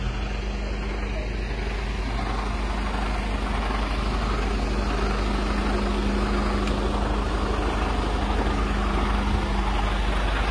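A car transporter truck idles in a yard after pulling in, giving off a steady, close, low diesel rumble with a constant hum that holds unchanged from start to finish.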